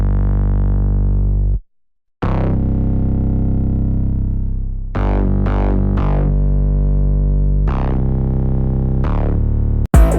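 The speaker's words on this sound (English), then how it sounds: "And then this is the bass with the effects." A heavily distorted, saturated bass plays sustained, gritty notes, cutting off briefly for a gap, then returning with short stabs and held tones.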